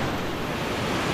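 Strong current of a clear river in Tibiao, Antique, a loud dense rushing roar that stays constant and close throughout the brief moment.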